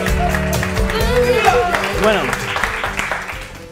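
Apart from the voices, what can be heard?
audience applause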